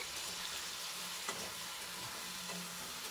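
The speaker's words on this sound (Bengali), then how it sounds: "আর এগুলোকে ভাজতে থাকবো যতক্ষণ না টমেটোটা খুব ভালোভাবে গলে যাচ্ছে" Tomato with turmeric and Kashmiri red chili powder frying for a taro curry, a soft, even sizzle with one faint stir near the middle, quiet and with no talk.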